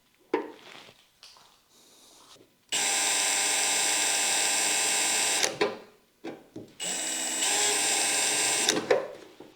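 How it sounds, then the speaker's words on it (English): An impact drill with a small 3/16 bit boring pilot holes for a carbon fiber wing on a GT350R, two long loud whining runs separated by short clicks and handling noises. "you're gonna take your impact drill"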